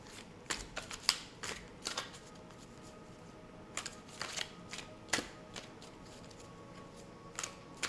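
Tarot cards are shuffled softly and fairly far off, with a run of light, crisp riffling snaps and flicks in irregular bursts over quiet room tone.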